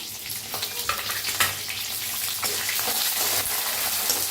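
Sliced onion sizzles in a pan with red chillies and curry leaves for idli sambar, a steady close frying hiss with occasional stirring scrapes throughout.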